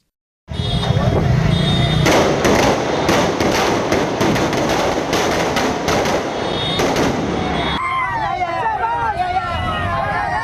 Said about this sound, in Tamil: சாலையின் குறுக்கே பட்டாசு வெடித்து ஆட்டம் போட்டனர்